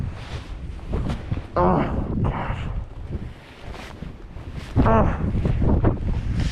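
Strong wind gusting across an exposed mountain ridge on the Franconia Ridge section of the Appalachian Trail, roaring and buffeting the microphone in surges, with a person exclaiming in alarm over the rush.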